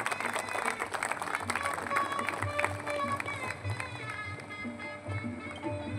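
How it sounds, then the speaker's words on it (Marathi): An audience at a school felicitation ceremony claps for an honored student, a steady patter of applause in a hall, faint and somewhat distant, with voices talking over it. "सर्वांनी टाळ्या वाजवून स्वागत करायचं आहे"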